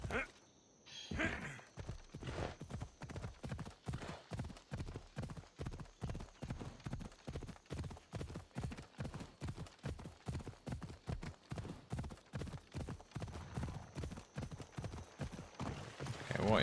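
Horse hooves clip-clop steadily in Assassin's Creed Odyssey, a regular trotting rhythm that starts after a brief pause and draws close, continuing evenly for the length of the passage.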